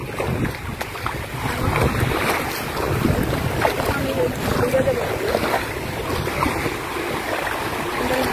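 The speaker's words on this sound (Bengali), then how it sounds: "ট্রলার আনতেছে দেখো না" A trawler boat nears on open sea near an island, its engine rumble mixed with wind buffeting the microphone and water wash, steady and fairly loud; people talk faintly in the background.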